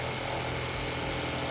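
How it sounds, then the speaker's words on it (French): A jigsaw cuts a board for a camper van ceiling in a Renault Trafic L2H1, making a loud, continuous buzzing whine close up that holds steady without pause. "Ma scie sauteuse qui était juste là."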